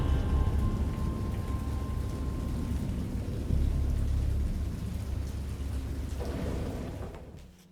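Heavy storm rain pours steadily in a Lovecraft-inspired story game, with low thunder rumbling beneath it; the downpour stays loud and close throughout, then fades out near the end, with no voices.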